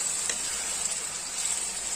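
Mutton mince fries in a pan with a constant bright sizzle and hiss, at a moderate level and close by, with a brief stir-like crackle near the start.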